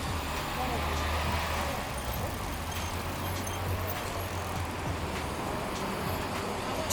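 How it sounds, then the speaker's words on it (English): Street traffic in Manhattan, New York City, a steady broadband roar of cars, taxis and buses with low engine rumble running continuously and fairly close throughout, with no clear speech. "Traffic, the noise"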